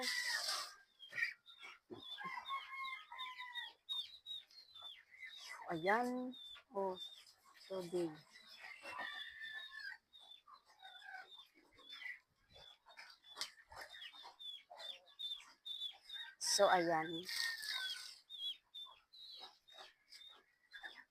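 Ducks in their pen on a hot day, quacking and chattering in irregular bursts with some louder calls standing out, mixed with chirping birds and a person speaking quietly nearby.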